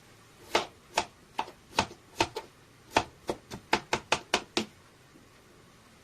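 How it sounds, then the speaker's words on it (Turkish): Potatoes being sliced thinly with a knife on a cutting board: a string of sharp, close knocks, spaced at first, then quicker and evenly paced, with quiet pauses between strokes. "İnce ince şöyle doğruyorum."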